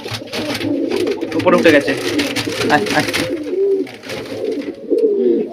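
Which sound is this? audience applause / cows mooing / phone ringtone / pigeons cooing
pigeons cooing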